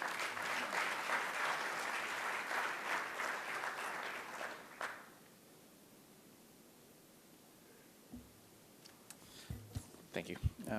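Steady applause from a conference audience welcoming a speaker to the stage, filling the first half then stopping, followed by quiet room tone and a few soft clicks and knocks.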